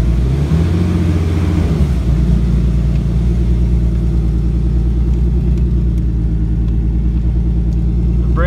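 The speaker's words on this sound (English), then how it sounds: "Runs so nice." Car engine running steadily after a cold start inside a garage, a loud, continuous low rumble with a brief throttle blip near the start, then an even idle throughout with no talking.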